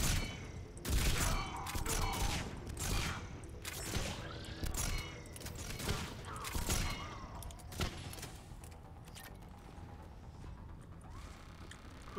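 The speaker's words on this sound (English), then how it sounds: "Who's shooting at me? I hear it, but I don't see it." Sci-fi weapon fire in Mass Effect, sharp cracking bursts clustered in the first half, some near and some farther off, fading to scattered quieter mechanical clanks toward the end.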